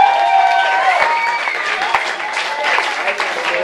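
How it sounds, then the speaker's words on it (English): A live gig crowd at the Lexapalooza benefit show claps and cheers in steady, dense applause that holds at a constant level throughout, with scattered whoops rising above it. "he deserves your fucking round of applause"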